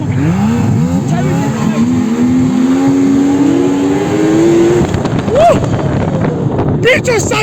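A snowmobile engine at a ski resort revs and whines, its pitch climbing steadily and then dropping, close and loud over heavy wind buffeting the microphone, with a few more quick revs near the end.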